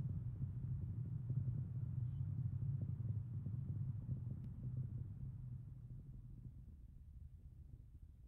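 Deep, steady low-frequency rumble from a Falcon 9 rocket engine during ascent, heard distant and faint as a smooth, continuous roar that slowly fades slightly.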